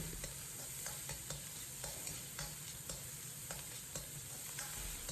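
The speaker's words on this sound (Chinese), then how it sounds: "继续将豆瓣酱炒出红油" Beef mince stir-fried with doubanjiang and fermented black beans in oil in a wok for mapo tofu, a dense steady sizzle with regular spatula scrapes and clacks, heard alone and close.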